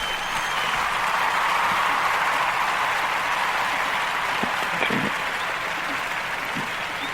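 Studio audience applause on a wrestling talk show, a dense sustained wash of clapping that stays loud and even throughout, with a few distinct claps standing out.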